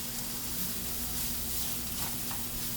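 Onions cooking in a pan for stuffed peppers give off a steady, close sizzle and frying hiss that holds constant throughout.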